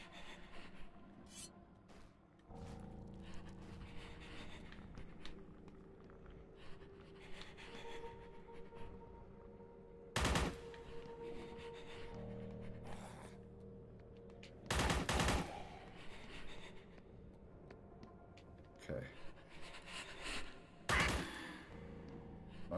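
A rapid-firing shotgun in Forgive Me Father sounds in several sharp, loud blasts spaced seconds apart over low, murky game ambience, with no talking.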